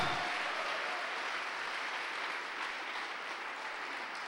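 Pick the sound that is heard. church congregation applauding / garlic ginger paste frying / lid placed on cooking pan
church congregation applauding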